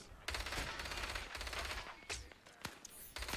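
Rapid automatic gunfire in a video game, with dense bursts of shots and a few single sharp cracks, fairly quiet.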